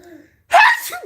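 A single sharp, loud human sneeze at close range, preceded by a faint quiet breath, then a short trailing exhale or vocal sound after the burst.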